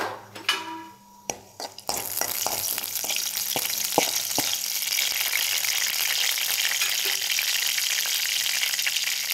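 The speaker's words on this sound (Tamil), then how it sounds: "எண்ணெய் ஊற்றிக்கிங்க. பட்டை, கிராம்பு, கல்பாசி, சோம்பு எல்லாம் சேர்த்து வதக்கிங்க." Cinnamon, cloves, stone flower and fennel hit hot oil in a kadai, starting with a few clinks and knocks before a loud, continuous sizzle takes over and holds steady up close.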